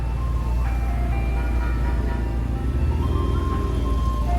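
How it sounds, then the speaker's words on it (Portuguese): Tinkling tones from an ice cream cart on a busy street, heard faintly over steady traffic rumble and passing cars. "E aqui nós temos a carrocinha do sorvete."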